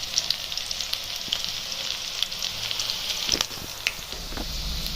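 Onion frying in a pan while being cooked with carrots and capsicum for a cauliflower dish, a steady close hiss of sizzling oil with faint crackles and a few soft stirring knocks, no talking.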